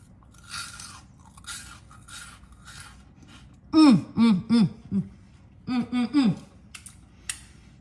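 A few crisp, crunchy bites of buttery homemade croutons come close to the mic, followed by a voice making drawn-out pleased humming sounds.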